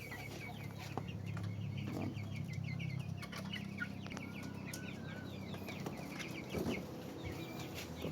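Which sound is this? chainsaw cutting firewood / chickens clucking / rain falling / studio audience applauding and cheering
chickens clucking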